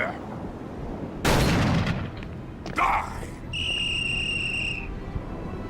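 A character whistles in the video game Call of Cthulhu: Dark Corners of the Earth, a short high tune of about a second over chirping crickets, after two loud thudding bursts.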